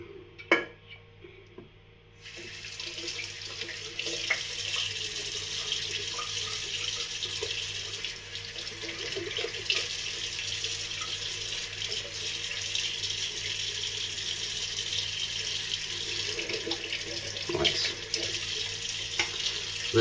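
Cold water running from a tap into a sink, starting after a couple of seconds of near quiet and then a steady close splashing rush that continues throughout with a few small knocks.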